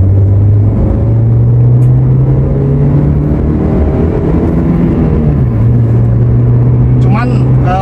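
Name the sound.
Toyota Corolla Altis engine sound during test drive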